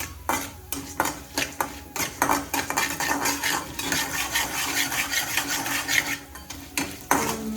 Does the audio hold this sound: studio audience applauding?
no